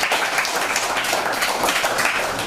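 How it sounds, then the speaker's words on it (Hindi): Children clap together in a sustained, dense burst of applause at a charity gathering, even and continuous for a couple of seconds. "जोरदार तालियां।"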